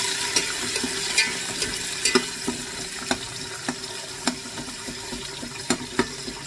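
Sliced onions sautéing in a pan, a steady low sizzle punctuated by regular sharp scrapes and clacks of a spatula stirring them, roughly one every half second, close and clear.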